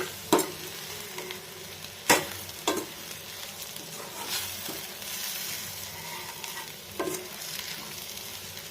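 Fish puttu of cooked shark fish being mixed in a hot pan, a soft continuous sizzle broken by a few sharp scrapes and knocks of the spatula, close and moderately quiet, with nobody speaking.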